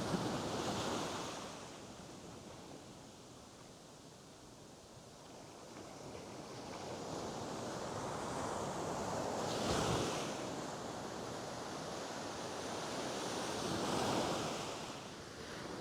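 Ocean surf rolls and breaks continuously along a beach during light-tackle surf fishing, with broad washing swells surging loudest near the start, around ten seconds and again near fourteen seconds, mixed with some wind noise.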